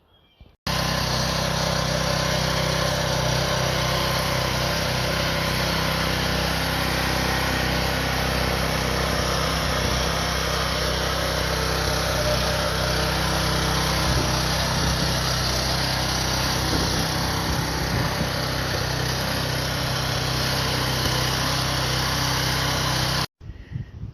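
A Harbor Freight Predator 212cc engine fitted to a Cub Cadet RT65 tiller runs continuously at a steady high idle, loud and close, starting abruptly and cutting off near the end.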